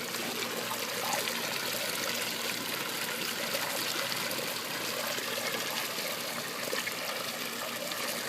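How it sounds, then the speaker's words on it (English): Water pours steadily out of an aquaponics drain, a strong continuous gushing and splashing flow that stays loud and even throughout with no talking. "this is where the water comes out. Pretty good flow"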